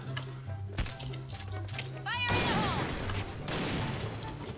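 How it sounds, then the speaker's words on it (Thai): Gunshots ring out in the online shooter Point Blank, sharp cracks and a burst of rapid fire over a hum of game music, with someone talking excitedly in between. "ใครยิงวะ"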